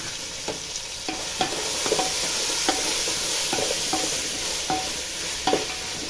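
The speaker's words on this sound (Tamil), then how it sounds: "நல்லா வதங்கட்டும்." Ingredients for chicken biryani sautéing in a pan with tomatoes, a steady close sizzle and crackle punctuated by repeated stirring scrapes and clinks, with no talking.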